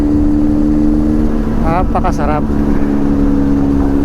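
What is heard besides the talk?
big bike motorcycle engine while riding on NLEX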